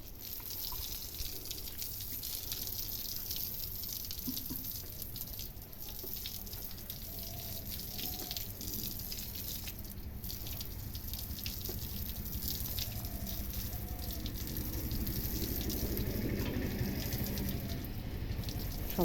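Water is poured and splashed over a cow during a bath outdoors, a continuous close wash of spattering liquid that grows a little stronger near the end.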